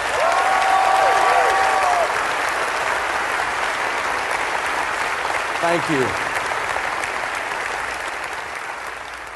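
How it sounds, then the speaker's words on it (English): A large town hall crowd at a debt-free living event applauds the tech crew in a loud, sustained roar of clapping with a few cheers at the start, while someone briefly speaks over it midway as it slowly fades. "I'd like for you to give all of those people a round of applause right quick."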